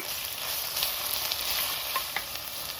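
Garlic and ginger fry alongside tofu in a pan, producing a dense, even crackling sizzle with occasional faint stirring ticks, close up and uninterrupted by speech.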